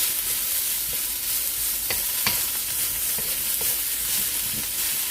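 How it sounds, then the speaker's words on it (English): Butter melting and sautéing in a pan for fried rice, giving a steady bright sizzle with a few light taps and scrapes of a spatula, close and even throughout, no talking. "Alright, keep on sauteing it. The butter will melt."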